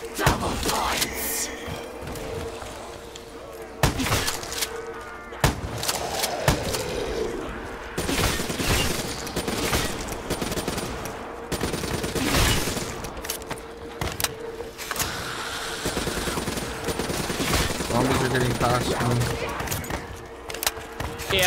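Rapid bursts of gunfire and heavy thuds from a Black Ops 3 Zombies match, dense and continuous over a steady game-audio hum, with sharp crackling volleys recurring throughout.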